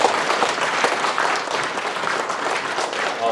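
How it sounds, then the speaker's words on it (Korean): A large audience claps steadily and loudly at a residents' briefing in Gyeryong City on the Daejeon–Chungnam administrative integration, a dense, continuous round of applause with no speech over it. "진심으로 감사와 환영의 말씀을 드리면서 크게 박수 한번 보내시기 바랍니다."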